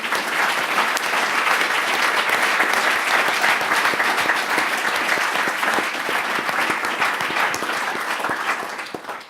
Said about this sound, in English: If we could have a big round of applause to them to start.